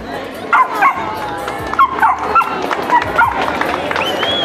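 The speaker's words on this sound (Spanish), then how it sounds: "El perrito peruano." A Peruvian dog on a TV show letting out a quick series of high, sharp yips and short barks, close and loud, with voices in the background.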